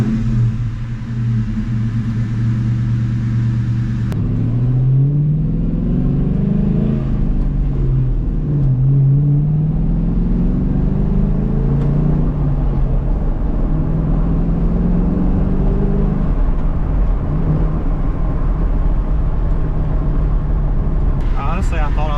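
New Edge Mustang engine with a JLT cold air intake, a loud close rumble that rises and falls through several revs and then settles into a steady idle.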